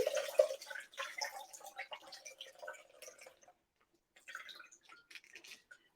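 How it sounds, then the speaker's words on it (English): Plant milk straining through a milk bag into a bowl at home, heard as a stream of close, irregular drips and trickles that thin out, pause briefly, then resume more faintly. "we're just going to strain out all the liquid now"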